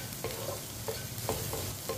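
Eggs and okra (bhindi) fry in a pan while a spoon stirs them, short scraping strokes repeating every fraction of a second over a low continuous sizzle, with no talking.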